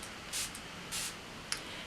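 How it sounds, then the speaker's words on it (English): Smashbox Photo Finish Primer Water is misted onto a face in short, close hisses: two quick sprays, then a brief squirt, each separated by quiet pauses. "I'm just going to spray that all over my face"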